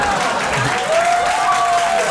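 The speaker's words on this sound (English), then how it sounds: "Listen, y'all don't gotta clap." A comedy club audience applauds after a stand-up joke, steady full clapping from a crowd with a faint whistle partway through.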